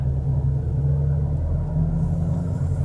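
Engine of a manual-transmission pickup truck accelerating on a road, a steady loud low rumble throughout with no break, heard from close by.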